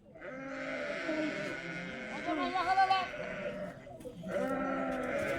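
Sheep and lambs bleat in a flock outdoors, several overlapping wavering calls close by, with a brief pause before another bleat starts.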